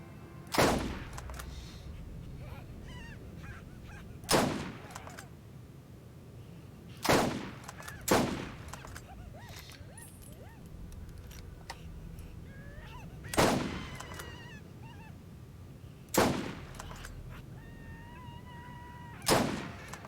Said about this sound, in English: I'll just break out the volcano